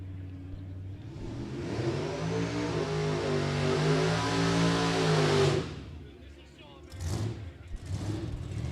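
A drag racing car does a burnout at Byron Dragway during a Sick Summer event. A loud, sustained engine roar builds for about five seconds and then cuts off abruptly. Fainter bursts and voices follow.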